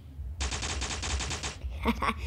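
A rapid burst of gunfire in the video game Block Strike, about ten quick shots in a row, followed by a couple of sharper clicks.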